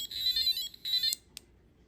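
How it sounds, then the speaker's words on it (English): A homemade electronic alarm clock built as a student project rings with two high, buzzy electronic bursts close by, then cuts off after a couple of brief clicks. "As soon as it hits 10 o'clock a.m., it should ring. As you can see, it will continue ringing."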